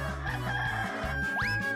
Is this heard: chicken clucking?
yes